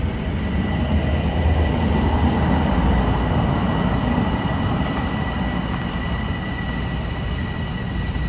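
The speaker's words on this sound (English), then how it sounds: "Hear the train." A train rumbles past with a steady heavy roar and rattling wheels, a faint high whine riding over the noise throughout.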